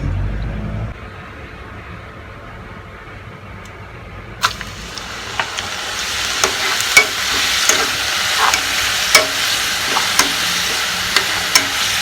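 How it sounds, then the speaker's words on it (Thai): Wonton wrappers cut into noodle strips go into hot oil for deep-frying, setting off a bright, steady sizzle with scattered crackles and pops. A quieter background comes first, then the frying rises sharply and continues with no voices. "เดี๋ยวเราจะมาทอดบะหมี่กัน ทอดเกี๊ยวเกี๊ยวที่หั่นเป็นเส้นบะหมี่"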